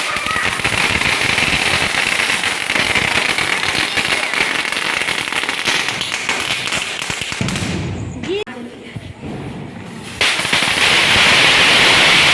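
Diwali firecrackers burst in a dense, rapid run of sharp cracks and pops, loud and close, with a brief lull before the crackling surges again; voices may be mixed in.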